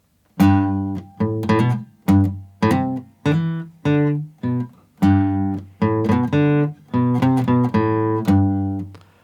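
A guitar picks out the intro line of a song, each plucked note ringing and decaying in a steady, unhurried rhythm, played alone and close up.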